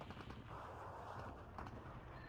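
Rapid autocannon fire from recon vehicles during a town fight in the war strategy game Steel Division 2, a dense steady rattle of bursts blending with battle noise at moderate level.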